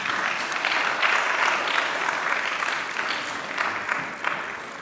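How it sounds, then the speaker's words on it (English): Sustained, close applause from an audience at a temple fundraising dinner, a dense steady wash of clapping that holds throughout and eases slightly at the end. "Could I have another round of applause for Aniruddha Prabhu?"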